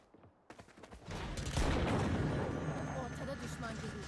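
Gunfire in the Valorant shooter game: a few sharp shots, then dense sustained firing and booming impacts layered with game effects, with a voice speaking over it.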